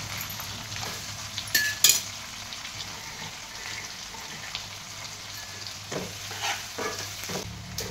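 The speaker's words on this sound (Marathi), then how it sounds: "तर आपला कांदा थोडासा तांबूस कलर येईपर्यंत भाजत आला." Onion frying in a pan with crushed garlic and green chillies for a fenugreek leaf vegetable dish, a continuous moderate sizzle with spatula scrapes and clinks against the pan, and no talking.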